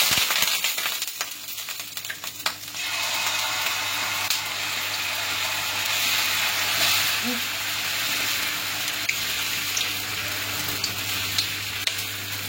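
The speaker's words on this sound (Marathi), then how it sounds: "तेल तापलेलं आहे आपलं. आता आपण टाकूयात मोहरी 2 चमचे." Two spoons of mustard seeds sizzling in hot oil in a home kitchen while dosa is being prepared, a steady, loud, close frying hiss that starts partway in and continues to the end with small pops, no talking.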